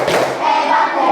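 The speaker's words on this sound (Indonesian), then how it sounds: "Tepuk hebat." A classroom of students claps together on cue, a brief loud wash of rhythmic hand claps close by.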